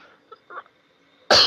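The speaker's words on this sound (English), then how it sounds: "I have a dry cough at this the moment" A single harsh dry cough bursts out near the end after a short stretch of quiet, loud and close to the microphone.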